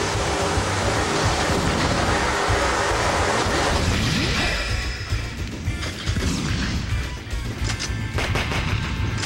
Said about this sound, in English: Those are fast missiles!